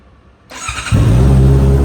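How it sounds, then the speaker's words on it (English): A Honda CBR 650R motorcycle with an E-Clutch and an Akrapovic exhaust cranks and fires close by, then settles into a loud, steady, deep idle. "अभी ऑन करते हैं बाइक को"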